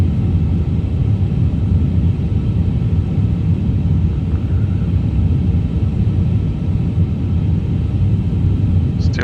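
Airbus A350 in a flight simulator game entering airframe buffet on approach: a loud, steady low rumble that fills the whole stretch without letup, with no voices over it.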